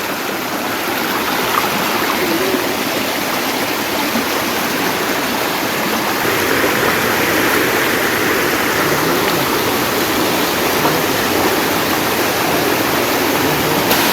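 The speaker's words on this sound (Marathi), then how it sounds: "पाणी बघा कसलं वाहत आहे" Fast-flowing village stream at night, a loud, steady rush of water filling the whole stretch without break, close and even, with no voices.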